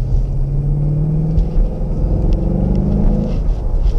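Low, steady V8 rumble from a 2016 Ford Mustang GT idling nearby, a continuous throaty drone with a slight swell in pitch partway through, heard alone without talk.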